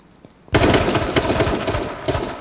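Dense burst of automatic gunfire from the video game H1Z2, a rapid rattling volley that erupts suddenly after a brief quiet lead-in and continues loudly to the end with no talk over it.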